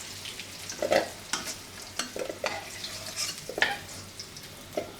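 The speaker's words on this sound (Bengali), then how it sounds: "এখন আলু ভাজা হয়ে গেল, উঠাই নিচ্ছে" Potatoes fry in a pan at home, a soft steady sizzle broken by several sharp scraping stirs of a spatula, close and fairly quiet with no voices.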